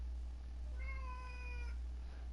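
A single cat meow rises clearly and tonally in the middle, moderately loud, over a low steady background hum, with no one talking.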